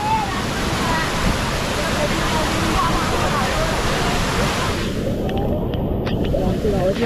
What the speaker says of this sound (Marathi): पण खूप पाण्याचा खूप आवाज येतो मित्रांनो